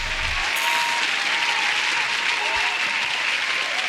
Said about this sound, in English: Round of applause for those who have enjoyed Shy Boogie treats.